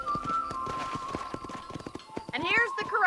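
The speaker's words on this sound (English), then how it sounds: "It hurts to ride the horse." Horse hooves clop in a quick, steady rhythm while riding in the video game Red Dead, close and distinct, with a neigh rising near the end.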